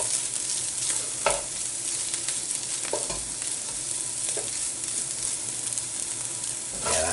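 Garlic fries in a pan for chicken tikka masala, giving a steady, close sizzle that holds throughout, while a utensil scrapes and stirs at intervals.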